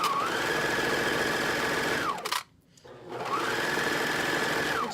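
Sewing machine running a curved seam: a fast, steady motor whir with rapid stitching that stops briefly midway, then starts up again and runs at the same even speed.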